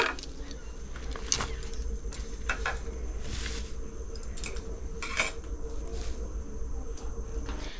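Finely chopped pumpkin leaves being moved onto a metal plate, with scattered metallic clinks, taps and scrapes close by over a quiet background hum.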